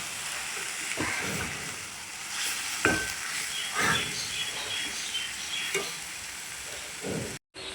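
Potol, a pointed gourd, fries in mustard paste in a pan, with a steady soft sizzle and hiss and occasional stirring scrapes close by. No one speaks.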